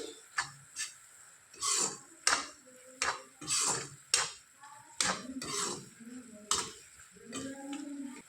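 Turmeric, red chilli powder and coriander powder are stirred in a pan for cabbage sabzi: a steady run of metal spoon taps, clinks and scrapes against cookware in a loose ticking rhythm, close and fairly loud, with no talking.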